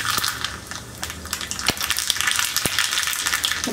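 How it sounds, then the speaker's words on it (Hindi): Mustard seeds crackle in hot oil for a tadka with the gas turned off, giving a dense, steady sizzle broken by sharp pops and a couple of distinct louder cracks, close and continuous without talk. "तेल अच्छा गर्म हो चुका है तो अब मैं गैस ऑफ कर दूंगी और इसमें ये राई डाल दूंगी।"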